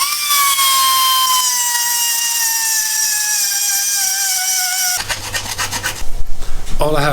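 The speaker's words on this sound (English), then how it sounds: "So what I have to do is I will get rid of it, file it down or grind it down." Metal filing on a motorbike, grinding down a protruding part, with a steady loud rasping that holds for about five seconds, then gives way to scattered scraping and knocks.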